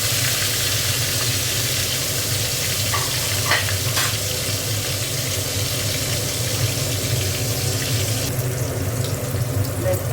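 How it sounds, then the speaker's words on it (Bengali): Fish rubbed with turmeric and salt frying in hot oil in a wok, a steady loud sizzle throughout with a few brief clinks of stirring near the middle. "তেলটাও গরম হয়ে গেছে, মাছগুলো দিয়ে দেবো"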